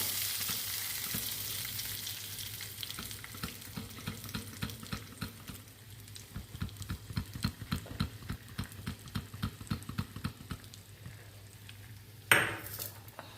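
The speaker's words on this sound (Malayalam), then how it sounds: "ഇത് നമ്മൾ വറുത്തെടുത്തു കടുക് പൊട്ടി തളിച്ച് ഇനി നമുക്ക് ഇതിനകത്തോട്ട് ഒഴിച്ചു കൊടുക്കാം" A popping mustard seed tempering fries in a pan with a long sizzle and rapid rhythmic crackles, then hits ripe mango pulissery with a sudden loud hiss near the end.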